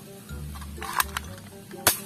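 A toy sniper gun fires a couple of sharp, bright cracks, one midway and a louder one near the end, over a low background hum in a room.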